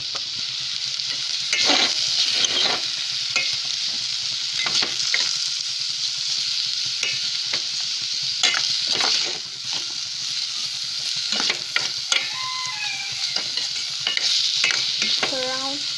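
Curry leaves and vegetables fry in a pan for porridge, a steady loud sizzle with repeated scraping stirs of a utensil and occasional clinks against the pan.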